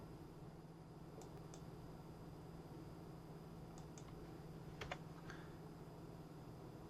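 A few faint, scattered keystrokes on a computer keyboard, sparse and quiet against a steady low hum.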